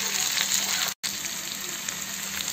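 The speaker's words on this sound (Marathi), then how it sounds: "कांदे टाकल्यानंतर याला खालवरचं करून घ्यायचं तेलात आणि याला छान होऊ द्यायचं" Onions sizzle and fry steadily in hot oil in a home kitchen pan, a dense continuous crackle with a brief dropout partway through, close and loud with no talking.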